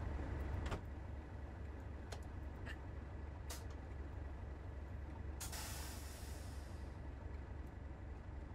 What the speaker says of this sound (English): Brakes are slowly releasing.